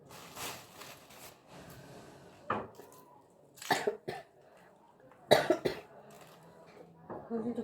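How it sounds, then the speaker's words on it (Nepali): A person with a cough and sore throat coughs in several short, harsh bursts spaced a second or more apart, close to the microphone, with quieter breathing or faint speech between them. "अलिकति खोकी पनि चलिरहेछ"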